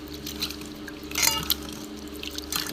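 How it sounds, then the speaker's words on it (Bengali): Raw mung dal being rinsed in water, with a few brief close splashes and trickles over a quiet low background hum. "মুগ ডালটা 2 বা 3 বার ধুয়ে নেব।"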